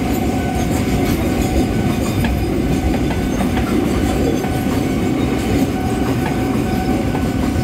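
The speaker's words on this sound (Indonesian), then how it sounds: "1364 kereta api Kauntener." A container freight train rolls past close by at a railway crossing, a steady loud rumble of wheels on rails with faint clacking throughout and no voices.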